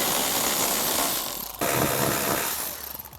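A hand ratchet clicks steadily as it loosens front seat bolts inside a 2011 Lexus IS 250, close and loud. The rapid pawl clicking breaks briefly partway through, then resumes without speech.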